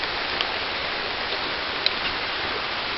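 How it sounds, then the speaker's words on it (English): Steady rain falling on a hike outdoors, a dense even hiss with a few faint drop ticks, constant and close throughout, with no talking. "Here comes that rain again."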